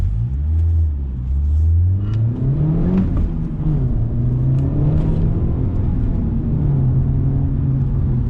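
A 2018 Honda Civic Type R drives along a small canyon road, its engine droning steadily and climbing in pitch as it accelerates through the gears, heard loud and close from inside the car with no voices.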